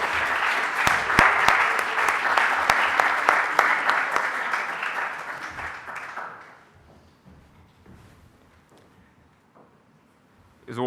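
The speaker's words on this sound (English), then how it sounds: "please give a big round of applause for Radhanath Swami ji" Audience applause after a speaker invites a round of applause for Radhanath Swami at a stage talk, loud sustained clapping from a large crowd that fades out over about six seconds, leaving quieter room sounds and a short noise at the end.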